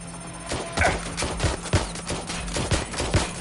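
Gunfire in the video game Watch Dogs: Legion cracks out in repeated irregular shots and thuds over a dense background of game noise, close and fairly loud.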